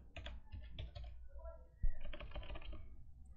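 Rapid keyboard typing on an unfamiliar new computer keyboard, dense clicks in two bursts with a short pause between, close and moderately loud, during a beat-making session.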